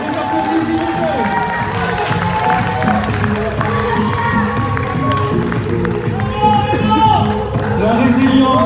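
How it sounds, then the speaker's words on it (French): An audience at a bodybuilding competition claps and cheers in a continuous, dense wash of applause, with voices mixed in beneath the crowd noise throughout. "Et on les applaudit, s'il vous plaît."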